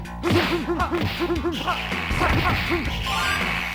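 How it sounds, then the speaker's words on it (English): Punches and kicks connecting in the Neo Geo arcade game Sengoku, a quick run of sharp whooshing thuds and hits, loud and close, over game music. "a decent thud from the audio when your punches and kicks"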